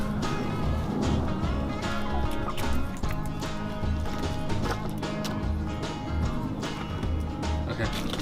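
Chickens feeding on crayfish make busy, close clucking and squawking over a steady, noisy outdoor background with some voices.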